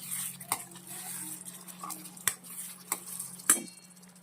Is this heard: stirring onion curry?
yes